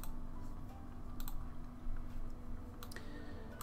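Typing on a computer keyboard to enter text into Notepad, a quiet run of soft key clicks with a few sharper taps, close and steady against low background hum, no talking.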